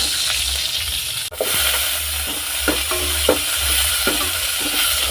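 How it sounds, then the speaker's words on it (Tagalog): Sautéing in a pan before clams are cooked, a continuous close sizzle broken by a few light stirring scrapes and clinks, with no voices. "gigisahin muna natin siyempre"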